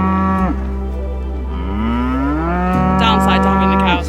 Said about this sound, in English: Downside to having the cows around.